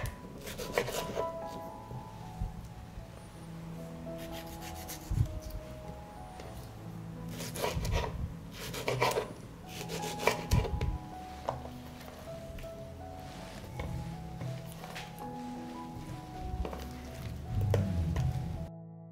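A knife slicing a tomato into rounds on a board, a series of soft, moist cuts and scrapes in irregular bursts, close and fairly quiet, with no talking.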